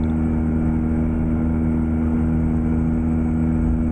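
A heavy truck engine in the American Truck Simulator video game, a Kenworth W900 hauling a heavy load, drones loud and constant, a deep rumbling hum with steady low tones and no break.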